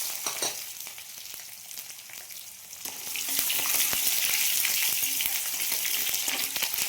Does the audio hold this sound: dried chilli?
yes